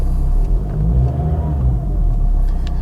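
Volvo XC70 engine idling cold, a steady low rumble held close and even throughout with no revving.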